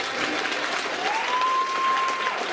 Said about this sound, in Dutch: En dan wil ik een heel groot applaus voor Lars en de Dejeuners.